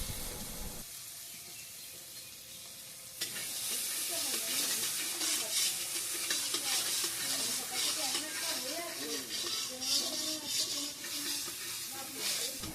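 Mustard paste with tomato and turmeric fries in a kadai. A dense, steady hiss of sautéing starts abruptly after a quieter opening and continues with faint melodic voice or music tones underneath.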